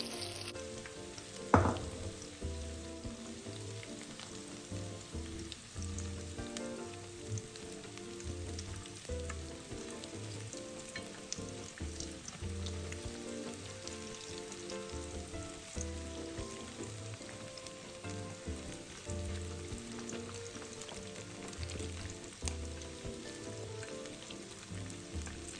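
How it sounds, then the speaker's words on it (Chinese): Battered vegetable fritters deep-fry in a batch in hot oil, a dense, steady crackling sizzle lasting throughout, with one louder splash-like burst near the start and no speech. "油温稳定后，接下来就可以一次过多油炸一些。"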